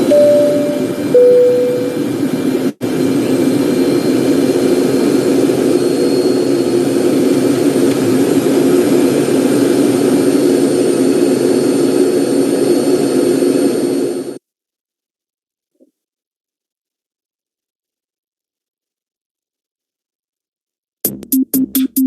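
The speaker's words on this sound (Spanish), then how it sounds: "Los motores a reacción han sido los conductores hacia el éxito de las aeronaves desde hace casi un siglo." A jet engine roars loudly and steadily with a faint high whine on top, a brief dropout partway, then cuts off abruptly into silence before a few short bursts return at the end.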